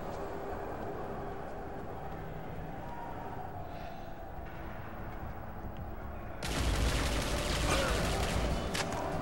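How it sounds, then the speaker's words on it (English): Wall-mounted turrets fire in The Chronicles of Riddick: Escape From Butcher Bay, a dense, steady wash of game combat noise swelling into a louder, harsher burst of gunfire near the end. "They got these little turrets on the wall. They do massive damage, so make sure you take them out as soon as possible."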